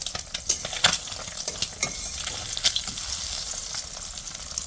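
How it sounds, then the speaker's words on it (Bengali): A snack frying in a pan, crackling and sizzling up close with frequent sharp pops and occasional spatula clinks over a constant hiss. "ঠিক এভাবে ভেজে নেবেন মানে যেভাবে আমি আর কি করতেছি"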